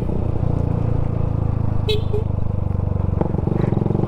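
A Suzuki Gixxer 155fi motorcycle engine drones loud and close, shifting up into third gear with a brief clunk partway through, while a voice talks over it.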